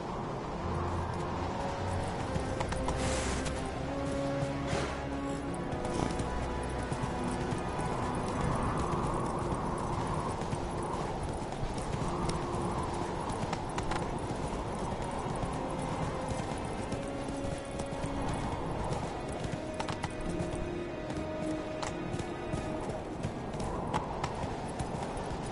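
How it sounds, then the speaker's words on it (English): Horse hooves clip-clop steadily in The Witcher 3, a continuous rhythmic trot under game music and ambience, with a brief whinny-like flourish possible but the hoofbeats dominating throughout. "Whoa there, Roach."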